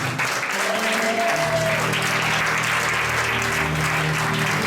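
Church congregation applauding and acclaiming Jesus, a dense sustained wall of clapping filling the room at full loudness from start to finish, with faint voices blended in.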